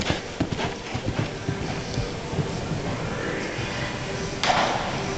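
A horse's hooves clip-clop steadily on a jumping course while it is ridden at an equestrian show, with a rider and a coach speaking softly in the background.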